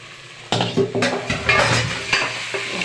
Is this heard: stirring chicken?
yes